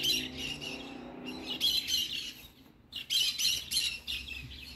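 Flock of free-flight pigeons calling outdoors, a busy overlapping chatter of chirps and squawks that comes and goes in bursts over a steady background hum.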